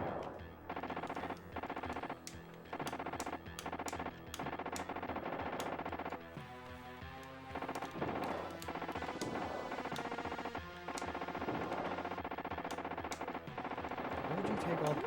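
Rapid bursts of enemy gunfire from the T2 arcade video game on SNES, crackling in repeated sharp volleys amid game music and effects, with a player talking over it.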